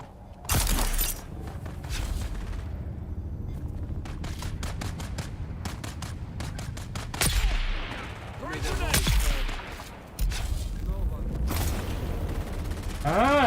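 A battle in the video game Dune: Awakening erupts in rapid bursts of gunfire, with sharp blasts and explosive crashes from grenades. Someone talks now and then under the loud, continuous shooting.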